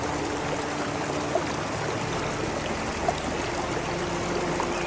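Lake water streams and trickles steadily into a pit, a continuous soft rushing flow with no talk over it.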